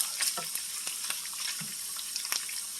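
Bacon sizzling in a pan on a stovetop during breakfast cooking, a steady bright hiss of frying fat broken by scattered pops and a few soft clinks, close and without talk.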